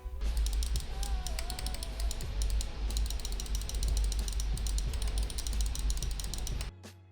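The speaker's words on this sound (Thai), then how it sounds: "เสียงการกดเมาส์เนี่ย ก็จะประมาณนี้เลยครับ" Rapid, steady clicking of Machenike L8 Pro gaming mouse buttons, a dense run of sharp little clicks close up that stops abruptly near the end.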